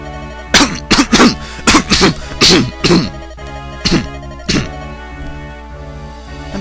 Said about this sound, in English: I'm sorry, I just had a huge coughing fit.